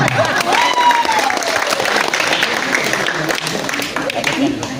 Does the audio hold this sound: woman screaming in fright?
no